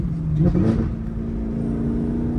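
A Camaro ZL1 1LE's engine heard from inside the car while downshifting, a loud steady low rumble with a brief rev blip early on and a droning tone throughout.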